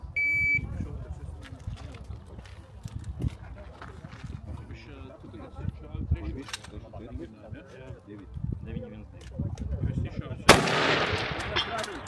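A rifle fires once at a precision shooting competition, the Daugava Precision Challenge 2025 in Latvia: a single sharp, loud report near the end, following a stretch of background voices and range noise.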